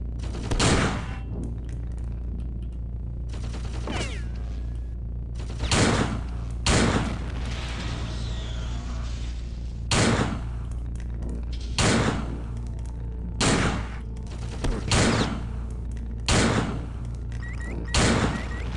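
Gunshots from a pistol in System Shock 2's 25th Anniversary Remaster aboard the Von Braun: about ten loud, sharp reports spaced one to two seconds apart over a low constant hum, with no talking.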